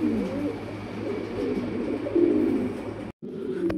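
Pigeons held for sale coo softly and steadily, their low calls running nearly continuously, close by, with no talking.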